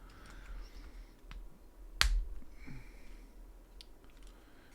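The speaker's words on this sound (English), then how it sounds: "it's making disconcerting snapping noises rather than satisfying clunk or clicking noises" Plastic pieces of a Millennium Falcon model kit snapping into place: one sharp loud snap near the middle, with a few fainter clicks and handling noises around it, close and without speech.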